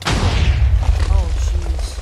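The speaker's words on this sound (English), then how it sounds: "All the explosions shut it off" Booming Minecraft TNT explosions bursting in quick succession while building a TNT elevator, a loud rumbling low thump running through the whole stretch with a voice talking over it.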